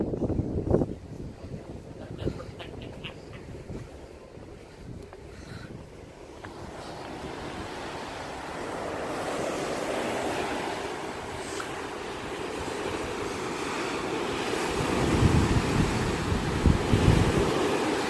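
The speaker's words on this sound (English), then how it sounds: "Lots of waves." Ocean surf and waves rolling beneath a cruise ship on a calm sea, a steady broad wash with wind buffeting the microphone throughout, swelling louder toward the end.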